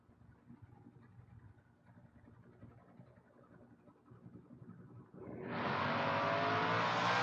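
Drag race launch between a Chevy and a wheels-up Chevy Nova at the 2024 FRBR Coastal Clash: engines rumble at idle with crowd ambience, then both cars suddenly roar off the line at full throttle, loud, close and sustained.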